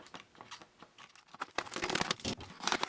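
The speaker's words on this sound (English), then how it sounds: "then use a pair of scissors to cut the top off" Scissors snip through the thin plastic of a pop bottle to cut its top off, a run of quiet irregular crinkles and crunching cuts that grow louder and denser in the second half.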